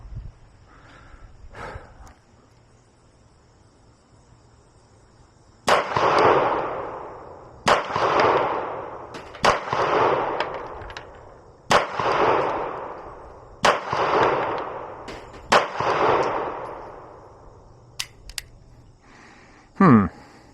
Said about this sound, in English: Beretta 92FS compact. Let's go ahead and shoot at that same target.